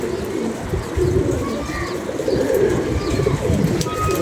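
Pigeons feeding on grain on the ground coo continuously and fairly loudly nearby, layered rolling calls from several birds with no speech over them.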